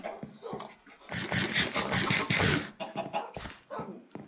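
Tamed dogs in the Minecraft video game, giving a run of short yips, whimpers and barks of moderate loudness in quick, uneven bursts, with no spoken words.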